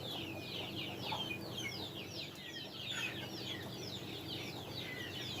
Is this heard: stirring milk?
no